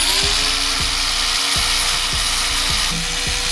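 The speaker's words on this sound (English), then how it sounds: "he's gonna be sanding the line so we can weld it" Power sander working along a body line on a crashed Nissan Skyline R34 before welding, a steady high whir with regular rhythmic ticks, close and loud throughout.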